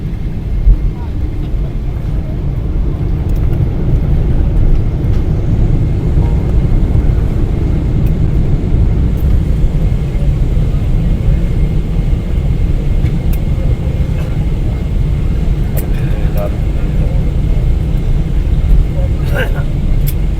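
Inside the cabin of a Saudia airliner on final approach and landing at Multan, a loud steady engine and airflow roar fills the space as people talk over it.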